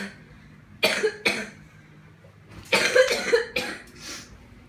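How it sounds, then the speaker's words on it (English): Coughing from someone with a sinus infection: a close, loud double cough, a pause, then a longer cluster of three or four harsh coughs trailing off. No talking. "So, that's why you hear me coughing the way I am."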